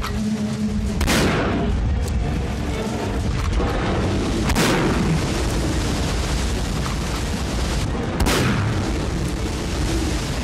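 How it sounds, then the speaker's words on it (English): Shotgun blasts in The Last Dead End video game, three loud booming shots spaced a few seconds apart over a dense, rumbling game soundscape. "Yay, shotgun actually does a surprising amount of damage."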